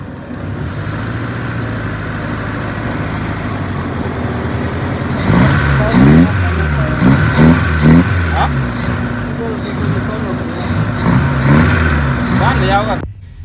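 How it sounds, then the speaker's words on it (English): A car engine converted from carburetor to EFI idles unevenly, then revs repeatedly in short, loud bursts, struggling to accelerate, while a person talks over it. "the car is struggling to accelerate"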